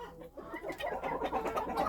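Backyard chickens and a rooster cluck softly and continuously while being fed a mixed grain mash, a low, busy chatter of hens close by.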